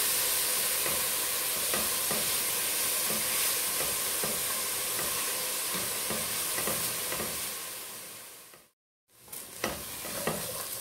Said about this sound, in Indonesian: Kita aduk ya. Ini aduknya pelan-pelan